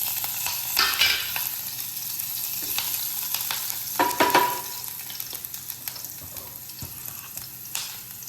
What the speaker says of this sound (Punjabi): ਤੇਲ ਆਪਣਾ ਗਰਮ ਹੋ ਚੁੱਕਿਆ ਇਹ ਚ ਹੁਣ ਐਡ ਕਰ ਦਾਂਗੇ ਥੋੜਾ ਜਿਹਾ ਆਪਾਂ ਜੀਰਾ ਜੀਰੇ ਨੂੰ ਭੁੰਨ ਲਾਂਗੇ